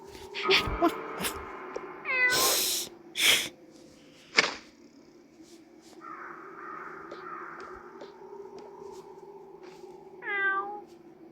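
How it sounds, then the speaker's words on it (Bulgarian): Cartoon cat meows from the Toca Boca video game, several short bright mewing calls scattered over a low steady background, with other game sound effects and thuds mixed in. "Това е моята котка."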